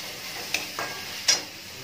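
Cabbage is stirred into Indian-style masala pasta in a pan: three brief scraping and clinking strokes of a utensil against the pan stand out over a faint background hiss, with no speech.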